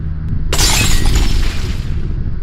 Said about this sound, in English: Windows shattered in the office building